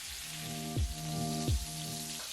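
Pork loin searing in a hot pan gives a steady, close crackling sizzle like rain on a surface, with two brief low thumps from the pan partway through.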